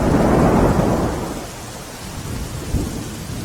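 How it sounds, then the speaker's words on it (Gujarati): Thunderstorm with rain in Ahmedabad: a loud rolling rumble of thunder fades over steady rainfall, with a second softer rumble near the end and no talking. "અમદાવાદમાં લાંબા સમયના વિરામ બાદ ફરી એકવાર વરસાદની શરૂઆત થઈ છે."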